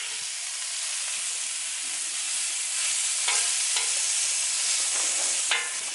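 Philly cheesesteak meat fries on a griddle with a steady, close hiss and sizzle, and a few sharp bursts as it is stirred and flipped, no voices.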